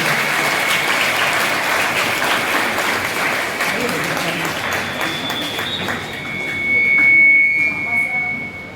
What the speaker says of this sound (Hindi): Please have a big round of clap.